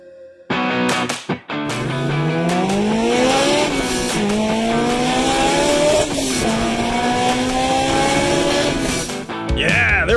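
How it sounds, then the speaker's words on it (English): A supercharged Honda S2000 AP1 four-cylinder engine revs hard through several rising gear pulls, loud and close, with a sharp high-pitched whine and a brief lift-off near the end. "Gotta love the sound of those high revving 4 cylinders and boost."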